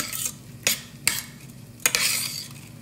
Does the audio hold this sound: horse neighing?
no